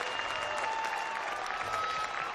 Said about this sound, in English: You can see the folk in the stand applauding that